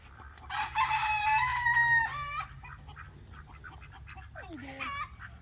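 Leghorn roosters crow in a loud, drawn-out call from inside a chicken tractor, followed by a second shorter crow and scattered clucking from the flock nearby.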